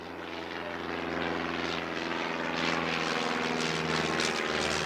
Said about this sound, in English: I've just said to Clarky, there's an airplane.